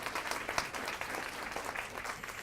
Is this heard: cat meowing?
no